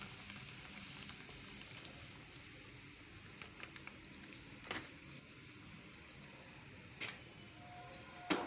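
Soft, steady sizzling of potatoes, onions and semolina frying in a pan, with a few faint ticks and clinks, no voices.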